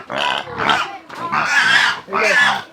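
Pigs being fed scraps on a farm give four loud, close squealing grunts in quick succession, each a short rough burst with brief pauses between.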